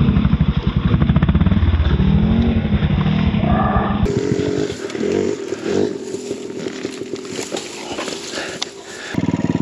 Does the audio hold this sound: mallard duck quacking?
no